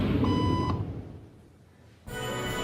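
A buzzer sounds during a hidden-camera social conformity experiment, with a steady electronic beeping tone heard loud and up close, cutting off for over a second before starting again.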